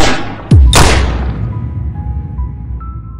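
A single sharp gunshot cracks loudly, followed by a second burst and a long fading echo that trails off into a faint tonal ring.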